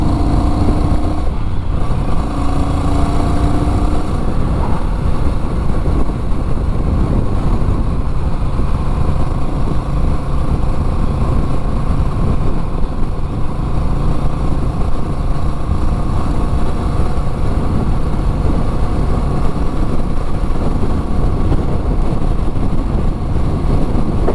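Honda Rebel 1100 motorcycle accelerates steadily on an open road, its engine a constant loud drone blended with heavy wind rush throughout.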